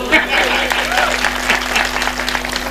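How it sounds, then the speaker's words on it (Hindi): Applause from the audience at a Hindi comedy poetry gathering, a moderate wash of clapping over a steady electrical hum, fairly close and sustained across the moment. "तालियां कमजोर हैं"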